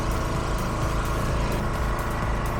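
Gasoline-style portable generator running on gas fuel, a steady, loud engine drone with a low rumbling hum and no pauses, close by and alone without any talk.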